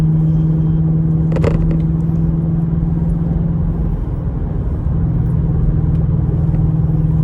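A 2007 Infiniti FX45's V8 gives a steady, low engine rumble from inside the cabin with a constant hum, plus a faint jingle near the start, and no one speaks.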